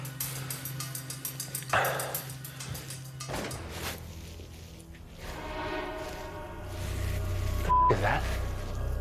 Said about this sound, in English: I'm hearing wild dogs